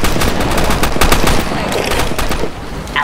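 Gunfire in a Roblox take on Call of Duty, a loud sustained burst of rapid automatic shots with overlapping reports that eases slightly near the end.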